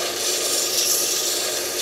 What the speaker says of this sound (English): Getting around the end of it here to sand it off to be rounded over.